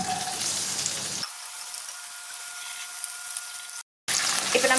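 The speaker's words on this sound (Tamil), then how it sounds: "ஃபர்ஸ்ட் நம்ம வந்து கடாயில் எண்ணெயை ஊற்றிக்கணும். அப்புறமா நம்ம வந்து ஃபர்ஸ்ட் வெங்காயத்தை உள்ளே போடலாம்." Sliced onions sizzle in hot oil in a kadai, a close hissing crackle that drops away to a faint hum midway before the frying noise returns, with no voices.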